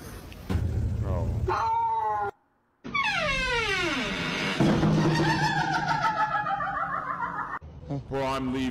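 Cats meowing in a run of drawn-out, rising and falling cries, loud and close, one after another with a short silent gap between them.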